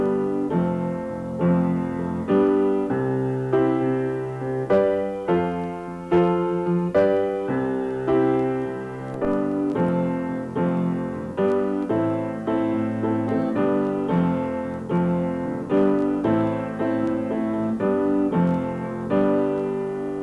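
Piano playing a repeating 6–5–4 chord progression, steady rhythmic chords with sustained harmonics, close and clear with no talking.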